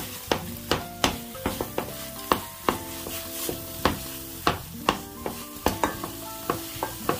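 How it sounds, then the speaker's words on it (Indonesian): Spice paste with galangal, lemongrass and lime leaves is stir-fried in a pan, a soft sizzle punctuated by regular sharp clacks of a utensil striking the pan roughly every half second. "Kemudian kita tumis lagi sehingga benar-benar tanak bumbunya."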